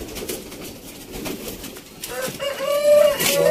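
Sialkoti Ali wale pigeons coo softly from a loft, low throaty murmurs under rustling and background noise, followed by a brief higher whistling tone near the end.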